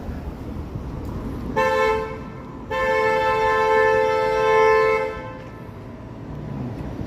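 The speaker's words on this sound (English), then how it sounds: "Streetcar honking at the vehicles." A Toronto streetcar sounds its horn at vehicles: one short toot, then a longer sustained blast of about two and a half seconds over steady street noise.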